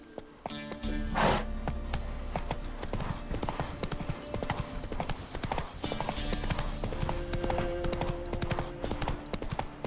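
Roach the horse gallops in The Witcher 3, steady clip-clop hoofbeats pounding continuously at a brisk rhythm under game music and ambient sound, with a brief whinny near the start.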